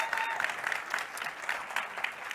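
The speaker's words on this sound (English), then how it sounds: "Give him a big round of applause." An audience at a Together Mzansi launch event in South Africa claps for McDonald's South Africa CEO Greg Solomon, a fairly quiet, continuous patter of applause lasting a couple of seconds with no voices over it.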